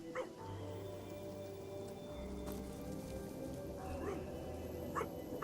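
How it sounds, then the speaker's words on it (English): A dog in a video game gives a few muffled barks and whimpers over a low ambient drone and steady soft patter, fairly quiet and not close. "Now, we're coming up upon the dog."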